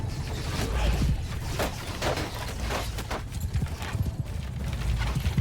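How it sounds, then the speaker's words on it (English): Horse hooves in Mount & Blade II: Bannerlord clop unevenly as the horse struggles up a hill, a quick irregular series of nearby thuds, with the occasional snort in the background. "I know my horse skills are crap and this horse can barely climb up this hill."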